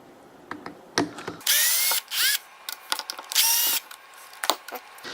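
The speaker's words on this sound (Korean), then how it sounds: "다음 카본 브러쉬를 잡고 있는 나사를 풀어주시면 되겠습니다" Power screwdriver loosening the screws that hold the carbon brush on an air cleaner, two loud whirring bursts with rising pitch, mixed with clicks and handling knocks, close up and without speech.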